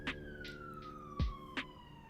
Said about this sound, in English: While an ambulance swings by my apartment.